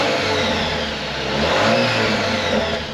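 A 2018-or-newer Jeep Wrangler JL with the 2.0 turbo engine revs up close and loud, a sustained mid-pitched engine roar that swells and eases over a few seconds.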